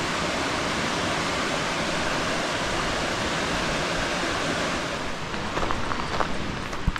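Shiny Creek rushes past in a loud, steady broadband roar of flowing water heard up close, with a few faint clicks toward the end.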